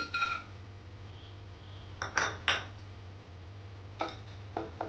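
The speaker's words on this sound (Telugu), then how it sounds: "స్టవ్ మీద పాన్ పెట్టుకొని కొంచెం గీ వేసుకోవాలి" A metal pan set down on a stove with a few sharp clinks and taps as ghee goes in, isolated knocks at intervals over a low steady hum, close and fairly quiet.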